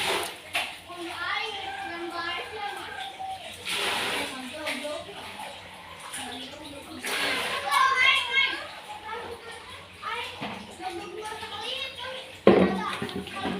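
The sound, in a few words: children playing noisily in the house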